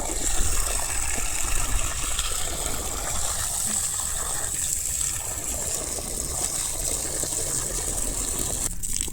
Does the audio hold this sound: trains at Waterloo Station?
no